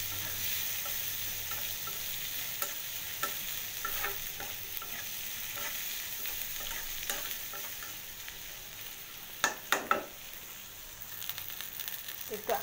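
Onions and green chillies fry in oil for a taki fish bhorta, giving a steady close sizzle. Scraping stirs recur throughout, with a few louder clattering strokes near the end.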